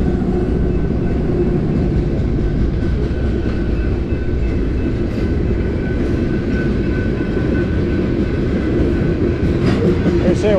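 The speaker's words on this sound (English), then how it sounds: "There's a train coming." A Canadian Pacific freight train of oil tanker cars passes beside the Mississippi River, a continuous heavy rumble with rhythmic wheel clatter and faint squeals, loud and steady throughout.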